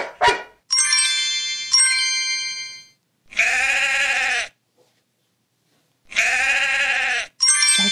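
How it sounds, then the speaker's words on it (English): Two loud, wavering sheep bleats in a Masha and the Bear video game, with pauses between them, separated and surrounded by short electronic chime tones, crisp and close with no talking. "That's right, it's a sheep."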